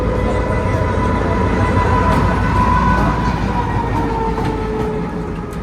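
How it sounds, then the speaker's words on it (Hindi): A Green Line Express train runs steadily past Kotri Junction, heard from inside the carriage as a loud continuous rumble with rail clatter, faint clicks and a high tonal whine, easing slightly at the end. "ये हमारी ट्रेन मुझे लग रहा है कि प्लेटफॉर्म नंबर 3 से स्किप करेगी कोठी जंक्शन को"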